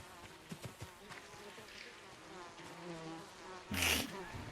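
Bees buzz around a hive in the Ghost of Tsushima video game, a faint, steady droning hum with a brief louder burst near the end.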